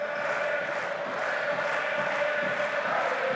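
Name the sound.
rugby crowd cheering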